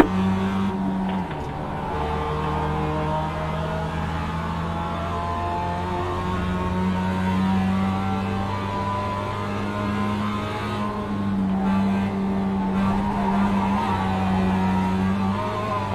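Race car engines in the iRacing sim racing game drone steadily for the whole stretch, with shifting engine pitches from several nearby cars and brief rises as they accelerate.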